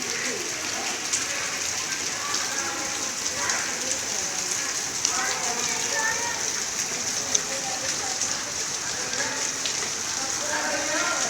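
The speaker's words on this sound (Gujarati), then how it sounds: "જોરદાર વરસાદ છે, રાતનો વરસાદ ચાલુ છે" Heavy night rain pours down steadily in a dense, continuous hiss with scattered drops, loud and close throughout, under occasional faint voices.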